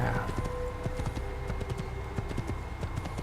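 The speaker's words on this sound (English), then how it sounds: "Let's get a horse." A horse gallops in the Assassin's Creed video game, its quick steady hoofbeats thudding close over a low background hum with faint game ambience.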